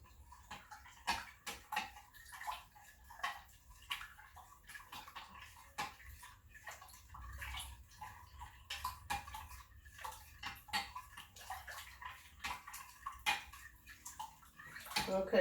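Gravy mixture poured over a meatloaf in a pan, with wet splashing and sloshing in irregular bursts, faint dish clinks, fairly quiet and close.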